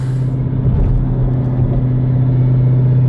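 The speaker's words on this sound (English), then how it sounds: "we're currently cruising. 1000 horsepower, just hanging out, driving like a champ." A 1000 hp Jeep Trackhawk cruises along with a steady, loud, deep engine rumble and drone that holds evenly throughout, with no voices.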